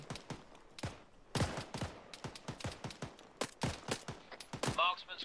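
Rapid weapon gunfire in the military shooter Arma 3, sharp repeated shots in irregular bursts, loud and close, with someone talking at times between them.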